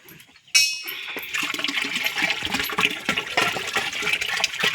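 Ten litres of desi cow urine is poured from up close into a 200-litre drum half filled with water and cow dung for making jeevamrut, a sudden gushing splash after a quiet start that keeps on as a loud, steady rush of liquid.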